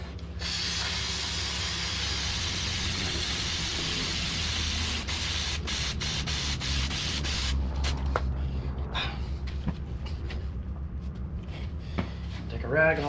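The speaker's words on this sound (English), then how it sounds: "I'll spray it off again." A long, steady hiss of cleaner sprayed onto a Harley-Davidson Pan America motorcycle chain goes on for several seconds, then stops; afterward someone talks over faint clinks and rustling.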